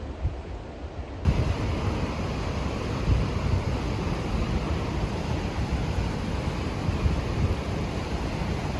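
Roaring torrent of Yosemite's Mist Trail waterfall in spring, a steady, dense broadband rush that swells in after a quieter first second and holds loud and continuous, with no voices.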